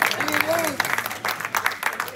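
Brief burst of audience clapping at a reception, a scattered patter of hands that rises and falls in short waves while a voice speaks over it.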